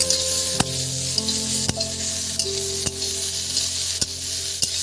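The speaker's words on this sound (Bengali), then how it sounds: "কেটে রাখা যে টমেটো আছে এটা এর মধ্যে দিয়ে দিচ্ছি" Chopped tomatoes sizzle steadily in hot oil in a pan, with a spoon scraping and knocking against the pan at regular intervals, close and continuous.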